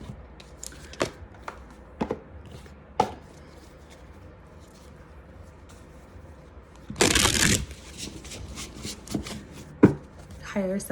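Tarot cards from a Tattoo Tarot deck are shuffled in one short, riffling burst partway through, among a few scattered light taps and handling sounds in an otherwise quiet room.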